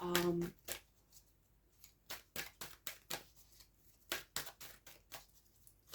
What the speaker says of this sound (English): let me shuffle this angel guide oracle deck